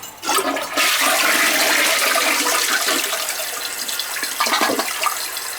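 A toilet under repair after flooding the floor flushes with a loud, steady rush of water at close range that runs the whole time and fades only slightly toward the end, with no voices.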